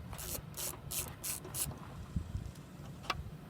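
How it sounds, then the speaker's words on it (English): A ratchet with a 1/2 inch socket turns out bolts during a unit install, heard as a rapid run of about five clicking strokes followed by a few quieter clicks and knocks. "It takes a 1/2 inch socket, what we're using today,"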